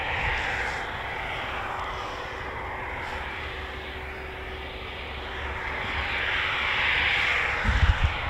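A Eurofighter Typhoon jet taxiing at RAF Coningsby gives off a steady, moderately distant engine roar that swells slightly toward the end, with no speech over it.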